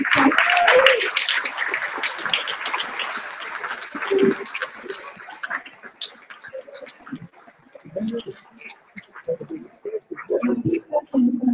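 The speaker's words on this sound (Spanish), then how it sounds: "Por favor, un merecido aplauso a estos artistas." An audience applauds artists at a youth integrity awards ceremony, a strong burst of clapping that thins out over the first few seconds as a presenter speaks over the dwindling claps.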